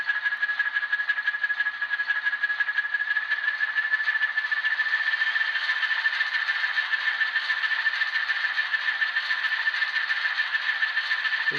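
An Atlas HO scale Alco S2 model locomotive with an ESU LokSound decoder creeps along at its lowest speed step, giving a steady, even mechanical whir and hum with a faint rattle that holds constant throughout, close and unaccompanied.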